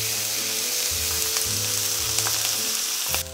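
Steak searing in avocado oil in a cast iron pan, a loud, dense, continuous sizzle with fine crackling and a low steady hum underneath, no talking.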